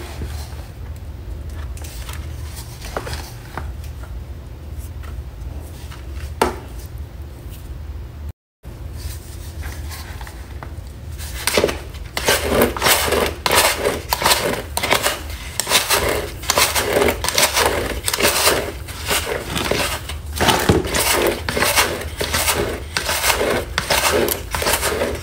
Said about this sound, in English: Yeah, just like that, just mix the perlite.